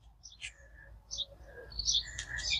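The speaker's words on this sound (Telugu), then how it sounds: "పక్షులు చూసిండ్రా ఎట్లా అరుస్తున్నాయి" Small birds chirp and tweet around a vegetable garden in hot summer weather, several short bright calls scattered through the stretch and growing busier toward the end, fairly faint against a quiet low rumble.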